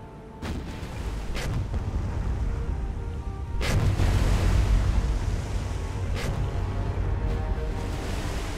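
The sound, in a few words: naval gunfire from warships in video game War on the Sea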